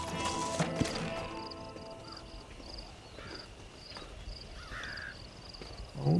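Horse hooves clip-clop in Red Dead Redemption, a few close hoof taps early on, then a quieter game ambience with bird calls and no talking.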